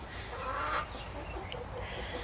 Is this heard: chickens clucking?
yes